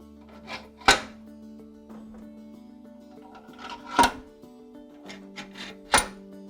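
Metal bearing caps are set into the block saddles of a 1932 Stutz DV32 engine, producing three sharp metallic clanks spaced a few seconds apart over a faint steady hum and light handling noises.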